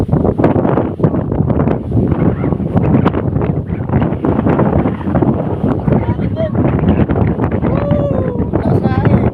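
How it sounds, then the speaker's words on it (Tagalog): Strong wind buffets the microphone on a mountain climb, a constant loud roaring rush that fills the whole stretch without letting up. "Lakas ng hangin!"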